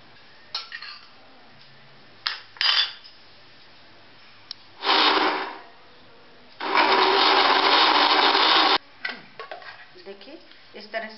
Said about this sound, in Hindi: इसमें पीस लीजिए मिक्सर में।